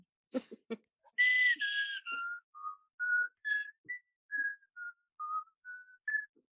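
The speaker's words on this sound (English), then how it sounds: "Was that you just whistling?" A person whistles a short melodic tune of about a dozen clear notes, close and isolated, after a couple of quick coughs or breaths at the start.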